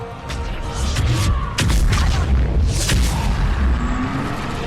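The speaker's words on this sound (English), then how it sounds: "Let's get an explosion." Heavy booming blasts and crashing debris from an explosion in Mass Effect 3 combat, loud and dense with several sharp impacts layered over rumbling noise.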